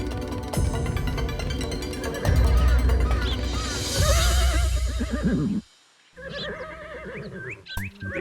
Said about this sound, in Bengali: মন্ত্রী মশাই আপনি ঘোড়ার ডাককে মেঘের গর্জন বলছেন?